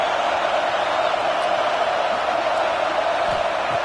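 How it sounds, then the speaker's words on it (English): A stadium crowd at an Ohio State versus Penn State college football game roars in a steady, dense wash of noise, distant and unbroken, with no distinct voices standing out. "here comes the noise. This crowd is trying to inspire this defense to make a big red zone stop."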